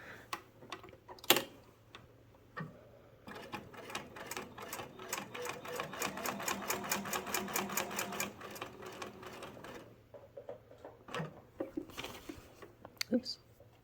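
A sewing machine runs backwards while stitching a patch onto a jacket, giving a fast, even rattle of needle strokes for several seconds, with handling clicks and brief knocks before and after.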